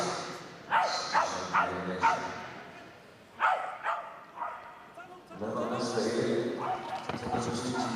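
Small dog in a Crufts agility jumping run, with a few sharp barks in the first half before a steady arena crowd noise rises and continues to the end, an announcer's voice heard over it.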